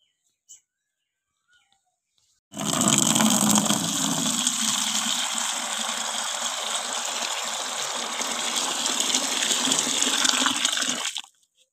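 Water pours steadily into a cooking pot, to be heated for dressing a chicken for curry. A broad rushing gush starts abruptly and runs loud and unbroken for about nine seconds, then stops.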